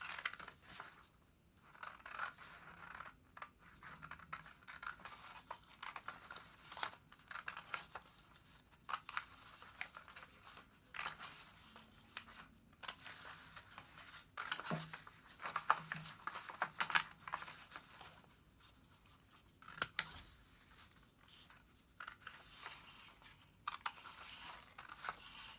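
Scissors cut around a paper shark drawing, a long series of quiet, close snips and crisp paper crunches in irregular bursts, with brief pauses between strokes.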